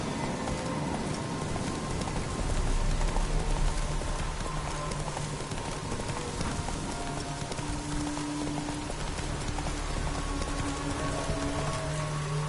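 Roach the horse's hooves clip-clop at a steady walking rhythm in a video game, close and clear over a continuous patter of rain, with no one talking.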